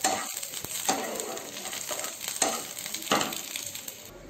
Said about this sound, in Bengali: এদিকে মেয়ের মাছের ঝোল হচ্ছে